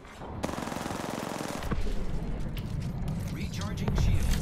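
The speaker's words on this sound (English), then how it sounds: "Where the f*** are you shooting at?" Automatic weapon fire from Apex Legends gameplay, a steady burst of rapid shots running throughout at moderate loudness, with game effects and a voice mixed in.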